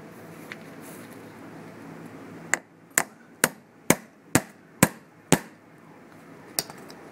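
A hammer strikes nails into roof thatching in a quick series of seven or eight sharp, ringing blows, evenly spaced, with a softer tap afterward.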